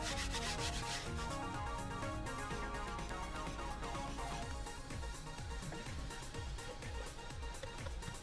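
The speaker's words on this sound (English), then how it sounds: "with the scrubbing, cross hatching, just sometimes it helps with the agitating and getting the dirt out" A brush scrubs the foamed upholstery of a VW Polo car seat in quick back-and-forth cross-hatching strokes, a continuous close, busy rubbing and bristle scratching with no talk.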